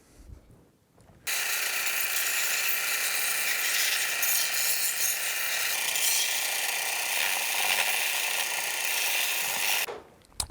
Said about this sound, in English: So I'm going to go clean this up a little bit on the belt sander just to get some of this roughness off